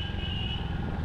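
A Royal Enfield Hunter 350 2025 motorcycle ridden hard through city streets, its engine giving a steady low rumble with a constant drone, close and unbroken, with no talk.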